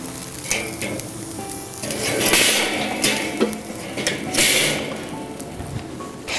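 Soaked, shaken wood chips hiss and crackle as they land on hot barbecue coals for smoke roasting salmon, a loud sizzle that surges in bursts with clinking, rattling handling noises and no talk.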